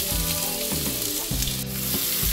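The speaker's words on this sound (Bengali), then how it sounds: "মানে এখন তেলগুলো গরম হয়ে গেছে, তাই এই সব মশলা সব জিনিসগুলো যেগুলো কাঁচা জিনিস ছিল সব দিয়ে দিলাম।" Katla fish pieces and raw spices hit hot oil, giving a loud dense crackling sizzle up close, with rhythmic low scraping strokes of a spoon roughly every half second.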